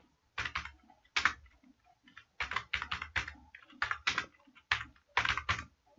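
Hindi text is typed on a computer keyboard, with bursts of crisp, close key clicks in irregular clusters separated by brief pauses.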